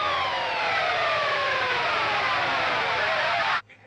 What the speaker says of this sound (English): It starts with a little pick scrape on a high-pitched setting here.